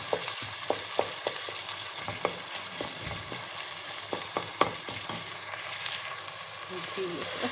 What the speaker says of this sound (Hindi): इसको अच्छे से फ्राई करें